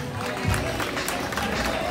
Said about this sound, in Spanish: recibamos, por favor, con un fuerte aplauso al programa de educación infantil